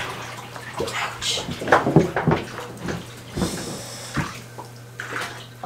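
Water splashes and sloshes in a dirty shower stall as military gear is rinsed, with irregular splashes, knocks and clatters of gear over a low steady hum.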